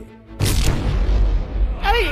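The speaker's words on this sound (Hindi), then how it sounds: "अरे मॉल में बॉम्ब है। अरे बॉम्ब ब्लास्ट हो गया" A cartoon bomb blast goes off in a shopping mall as a sudden loud boom followed by a long low rumble, with a voice breaking in near the end.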